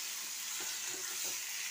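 Turmeric, spices and chopped tomato frying in a pan for a Bengali rohu fish curry, a soft continuous sizzle with faint stirring scrapes, quiet and close with no talk.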